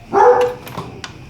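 An injured dog in poor condition gives a single short bark followed by soft whimpering yips, close by and brief.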